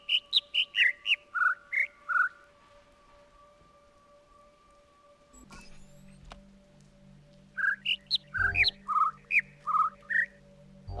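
Birdsong in two clusters of high, quick chirping notes, one at the start and one near the end, with a quiet, steady background and a low hum in the middle.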